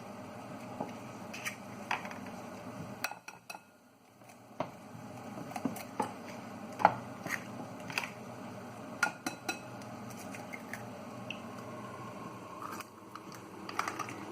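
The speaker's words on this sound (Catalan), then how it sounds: "ja podem començar a batre els ous" Eggs are beaten in a bowl, four of them, with light irregular clicks and taps of the utensil against the dish, quiet and uneven, pausing briefly before resuming.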